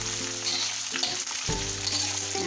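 Onions sizzle and crackle steadily in hot oil for chicken varuval, a close, continuous frying hiss with a brief stir-like shift midway and no talking.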